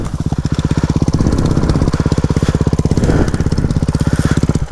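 A motorcycle engine runs close and loud with a steady, rapid pulsing beat, the idle rising slightly in places and continuing throughout; the bike is overheating a little.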